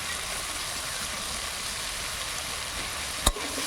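Slit green chillies sizzle in a hot pan while carrot dishes are cooked, making a steady, even frying hiss throughout with a single sharp clatter near the end.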